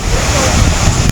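Spray from Aagaya Gangai waterfall in the Kolli Hills gives a loud, steady broadband roar of rushing water and wind close to the microphone, lasting only a brief moment.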